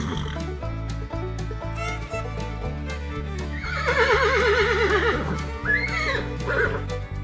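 A horse neighs and whinnies in long, quavering cries over a steady background of layered music, the calls rising loud near the middle and trailing off toward the end.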